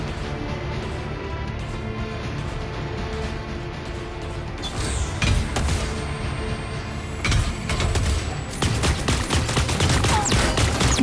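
Rapid bursts of gunfire in the video game Super Mecha Champions crackle over a steady electronic background, growing denser and louder toward the end, with no voices heard.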